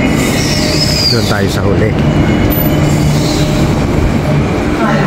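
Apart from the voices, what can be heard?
Perth to Fremantle passenger train at the station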